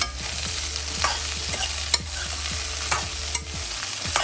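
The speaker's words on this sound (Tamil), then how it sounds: "நல்லாவே வதங்கட்டும் வெண்டைக்காய்." Okra sautés in a pan with a continuous sizzle, and a utensil scrapes and stirs it at irregular intervals, close and fairly loud, with no talk.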